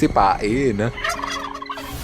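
A turkey gobbles loudly and close, a rapid warbling burst followed by fainter trailing calls.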